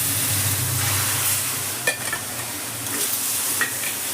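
A spoon stirs roasted semolina with milk in a pan, a steady soft sizzle and bubbling with faint scraping and a few light metallic clinks of utensil against pan, close and continuous.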